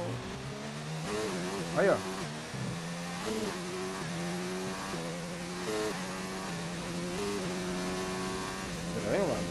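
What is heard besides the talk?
strange noise from race car engine in F1 2019 video game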